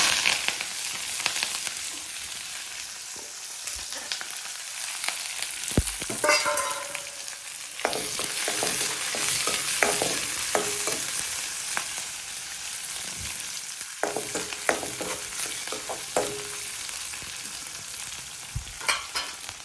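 Onion, curry leaves and chillies fry in a pan with a steady, moderate sizzle, broken by occasional stirring clinks and scrapes and sharper spitting bursts.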